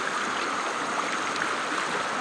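A large river flows steadily in an outdoor setting, a continuous broadband rushing wash, close and fairly loud, with no speech over it.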